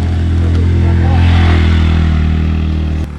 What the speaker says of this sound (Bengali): মোটরসাইকেল যাচ্ছে নাকি এখানে?